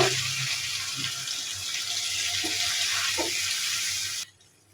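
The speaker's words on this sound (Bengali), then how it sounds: "এখন আমি পানি দিয়ে দিব" Water pours steadily into a cooking pot of crab curry, a continuous hissing splash that stops abruptly near the end.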